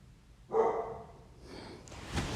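A dog named Thor gives one sharp bark, then a couple of softer follow-up yips close by, with no one talking.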